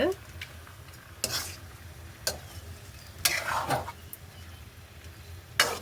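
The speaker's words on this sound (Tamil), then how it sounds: "இந்த நேரம் நாங்கள் எடுத்து வச்சிருக்கிற சிக்கனை இதோட சேர்க்க போகிறோம் அதையும் சேர்த்து இதோட வடிவாக இருக்கா பிரட்டி விட்டுட்டு" Chicken pieces stirred through a hot pan, with a soft continuous sizzle broken by repeated scraping and clattering bursts of the spoon against the pan, close and fairly quiet.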